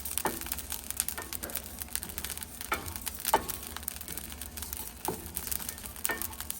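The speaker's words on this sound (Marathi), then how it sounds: "आपण आता मसाला भाजून घेतलाय" Whole chole masala spices with cinnamon being dry-roasted in a pan, giving a steady dry crackle and rustle with soft, irregular scraping strokes recurring every second or so, close and fairly quiet.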